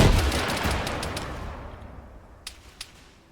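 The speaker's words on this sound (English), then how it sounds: "Fire a few RPGs up there." Gunfire and blasts from RPGs in a zombie survival video game, with a loud burst fading into a decaying rumble, then two sharp distant cracks near the end.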